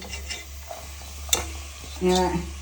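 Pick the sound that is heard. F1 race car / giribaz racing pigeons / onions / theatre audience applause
onions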